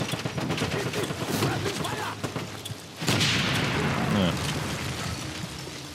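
Grenade explosions in the shooter Wolfenstein (2009), a muffled boom near the three-second mark over ongoing battle noise and gunfire, with voices talking in the background.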